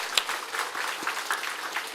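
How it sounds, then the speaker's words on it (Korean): Congregation applause during a church service, a short burst of scattered clapping with individual sharp hand claps standing out, moderately loud and brief. "힘찬 박수를 한번 보내겠습니다"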